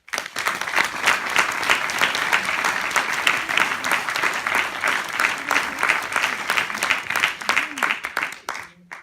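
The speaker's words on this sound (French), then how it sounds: "Merci d'applaudir tous nos bénévoles." A hall audience claps warmly for volunteers at a cinema inauguration, a dense steady round of applause with some voices mixed in, fading out at the end.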